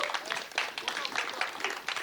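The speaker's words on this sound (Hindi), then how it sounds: "एक बार सारे कास्ट के लिए बहुत सारी तालियां होनी चाहिए प्लीज." An audience at a Punjabi film event claps for the cast, a moderate, fairly uneven patter of many hands with faint voices mixed in.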